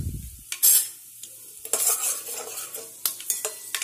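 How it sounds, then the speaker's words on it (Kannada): Mustard seeds spluttering in hot oil in a pan for a green tomato brinjal curry, bright crackling pops and sizzle with a few sharp spoon-on-pan clinks, close and without talk. "ಒಂದು ಸ್ಪೂನ್ ಅಷ್ಟು ಸಾಸಿವೆ ಹಾಕ್ತಾ ಇದೀನಿ। ಸಾಸಿವೆ ಚೆನ್ನಾಗಿ ಸಿಡಿಬೇಕು।"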